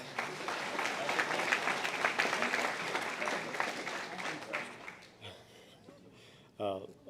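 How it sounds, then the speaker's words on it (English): Guests at the Rains High School All-Sports Banquet applaud the JV team, a steady round of clapping that tapers off after about five seconds, followed by a few faint voices. "please give a round of applause for those guys"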